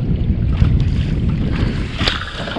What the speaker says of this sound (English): Boy, that wind blowing right in here.